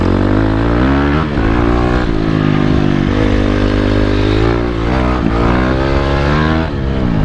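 A dirt bike engine revs steadily and loudly up close, its harmonic drone rising and dipping through several throttle swells with no talk over it.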